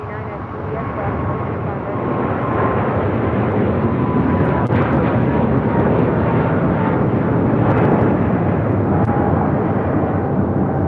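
A wide-body Air China Boeing 777-300ER landing on runway 25 left at Los Angeles International Airport, heard as a loud, steady roar of jet engine noise that holds throughout, with faint radio chatter from controllers and pilots beneath it.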